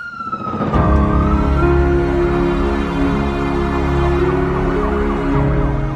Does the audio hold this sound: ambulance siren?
yes